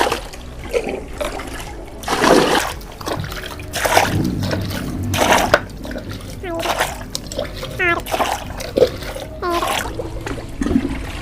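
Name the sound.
rice water solution being poured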